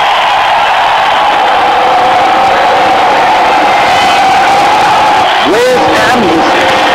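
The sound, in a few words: crowd cheering in video game Real Cricket 2018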